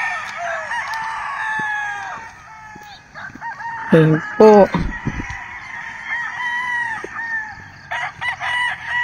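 Roosters crow repeatedly on a morning walk, several long calls overlapping at mid distance with occasional clucking, while a person speaks briefly.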